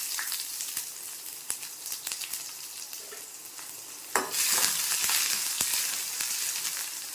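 Onions sizzle and crackle in a hot pan, with a sudden louder hiss about midway as more is stirred in, then a steady frying sizzle.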